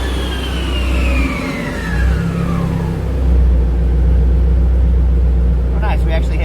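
A turbocharged B18C1 engine in a 1992 Honda Civic Si hatchback drones steadily on a dyno, its pitch sweeping as it revs and holds at high load. The sound is loud and continuous, with people talking over it near the end.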